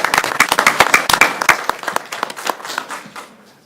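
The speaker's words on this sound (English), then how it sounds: "That deserves a round of applause." Audience at a regular monthly school board meeting claps for a Milwaukee Public Schools employee's 35 years of service: sharp, close hand claps in a lively burst that thins out and fades toward the end.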